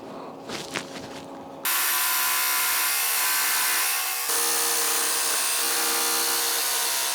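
Power tool cutting through an old steel saw blade, a loud, steady high-pitched grinding whine that starts abruptly after quiet handling noises, with a brief dip midway before resuming.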